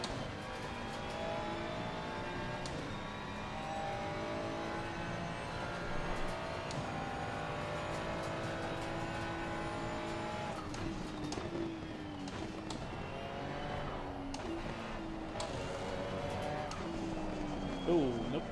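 A race car in the Assetto Corsa Competizione racing game, its engine revving and shifting through gears, tyres squealing in turns across a steady, loud lap, with someone talking over the engine noise.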